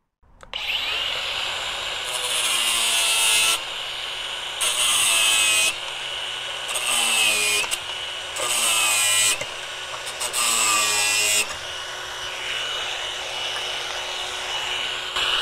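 A Hercules brushless power tool drives drywall, construction and deck screws and a 3/8 inch lag bolt into wood, giving five loud whirring bursts, each a couple of seconds long, separated by short pauses, close up with no talking.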